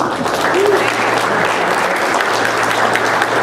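Sustained applause from an audience at a senior picnic, greeting Senate President Karen Silva as she is introduced; steady dense clapping fills the whole stretch with a faint low hum underneath.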